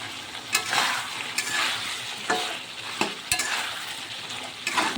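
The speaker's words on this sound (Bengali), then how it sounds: "এবার আলুটা ভালো করে কষে নেব। অনেক সময় নিয়ে কষতে হবে।" Potatoes with cumin powder and garam masala stir-fried in a pan, a steady close sizzle broken by several sharp scraping and clinking spatula strokes against the metal, no voices.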